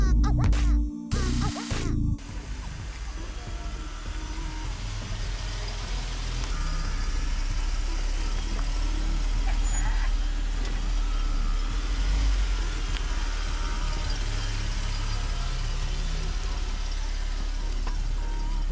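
A Jeep Grand Cherokee engine runs on a test drive after a front-end noise repair, a low steady cabin drone with a few bumps and clunks at the start, no speech.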